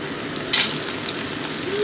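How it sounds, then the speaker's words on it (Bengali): Cauliflower and potato pieces fry in a pan with a steady, close sizzle, and one brief louder spatter occurs near the start. "এবার আমি কেটে রাখা আলুর টুকরোগুলো এর মধ্যে অ্যাড করে দিচ্ছি।"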